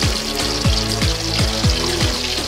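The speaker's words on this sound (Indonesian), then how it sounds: "minyaknya langsung meletup." Fish fries in hot oil, the oil spitting and popping in a loud, dense sizzle with sharp crackles throughout, close up and without speech.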